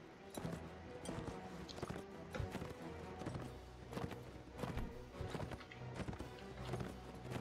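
A horse plods slowly in Mount and Blade Warband, a soft, steady, uneven clip-clop of hooves repeating throughout at moderate distance, with faint game ambience and no clear talk.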